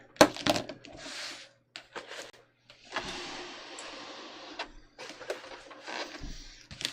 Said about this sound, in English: So let's go ahead and stay stitch.